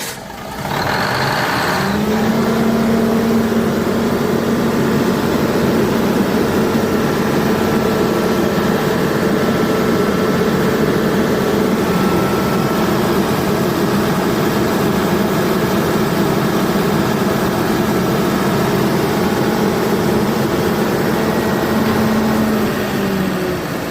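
A ship's emergency generator engine runs during an onboard drill, a loud, steady diesel drone with a sustained low hum that starts up in the first seconds and holds evenly for the whole stretch, with no talking over it.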